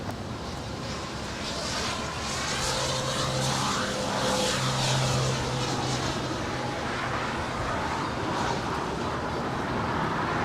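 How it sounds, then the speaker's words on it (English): Virgin Atlantic Dreamliner airliner landing on the south side of Los Angeles LAX airport, a steady, loud, broad roar that swells slightly in the middle and holds throughout with no talk. "Virgin Atlantic, the Dreamliner, landing here on the south side"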